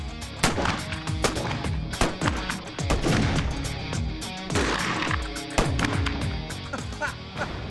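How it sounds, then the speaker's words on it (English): Repeated gunshots from revolvers fired by gunslingers at a collection of hats, sharp loud cracks in an irregular sequence with ringing decay, some overlapping, against a busy music-like background. "our gunslingers take pot shots at their whole hat collection"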